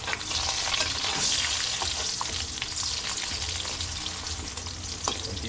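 Hotdogs fry and sizzle in a pan for a Filipino breakfast, a loud, steady crackling hiss with occasional stirring scrapes, heard close up with no talking.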